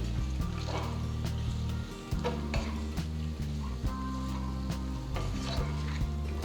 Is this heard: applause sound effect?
no